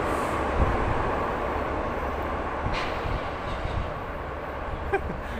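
Passenger train 38/46 rushing past the Chulalongkorn Bridge halt, a steady loud roar of wheels and rails holding throughout with faint clatter on top.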